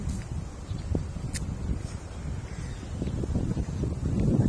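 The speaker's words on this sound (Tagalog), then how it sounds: "Mahangin ngayon dito." Gusty wind rumbling against the microphone, steady and fairly loud, building toward the end, with faint rustling and no talk.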